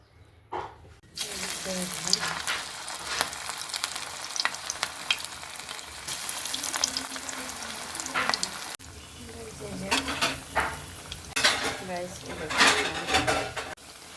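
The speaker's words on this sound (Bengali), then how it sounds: "এই যে পেঁয়াজগুলো সব দিয়ে দিয়েছি। এখন নাড়াচ্ছি।" Onions being stirred in a sizzling pan, loud frying hiss with scraping and clinks of a utensil against the pan in irregular bursts, continuing through a brief cut.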